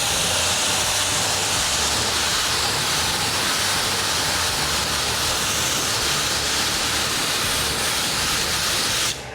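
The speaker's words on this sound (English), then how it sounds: "You want to rinse till that sudsing goes away." A water hose rinses suds off a black car's grill and wheels, a continuous loud hissing spray up close that runs steadily and cuts off abruptly at the end.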